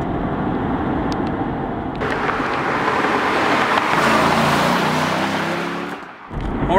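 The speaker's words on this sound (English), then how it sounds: "We're out clocking a couple highway miles behind the wheel of the Corvette." A Corvette C6 coupe cruising on the highway in touring mode, its steady engine drone and road noise filling the cabin, swelling louder midway before easing off near the end.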